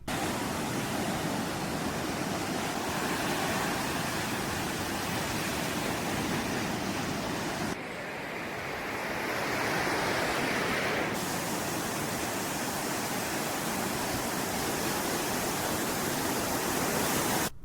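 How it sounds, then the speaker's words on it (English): Glowing blue ocean waves crash onto a shore as a continuous, loud wash of surf that briefly softens midway, with no voices. "You guys really enjoyed the glowing blue waves from the last episode, so here's some more footage."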